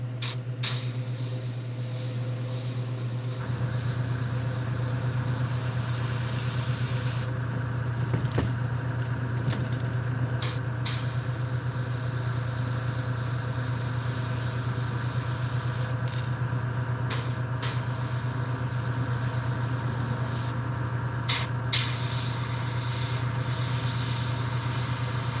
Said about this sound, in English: So now what you want to do is spray right down the center.